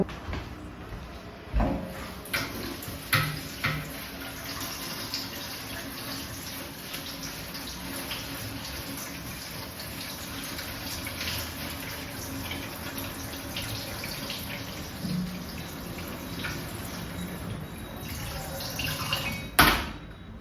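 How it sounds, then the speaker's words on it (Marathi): Drumstick leaves are washed under running tap water, a steady, moderately quiet splash and trickle with a few sharper knocks and clatters, close by and without talk. "तर इथे पानं धुवून घेतलेले आहे"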